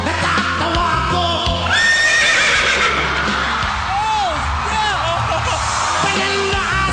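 A human voice imitates a horse's whinny, with rising and falling neighing cries over a busy background of music and noise.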